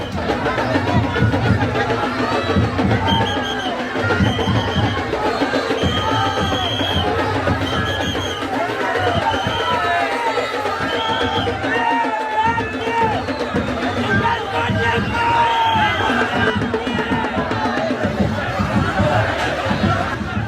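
Festive crowd at a Bahiridev immersion procession, a dense, continuous hubbub of many voices chattering and calling out, with occasional laughter, loud and close throughout.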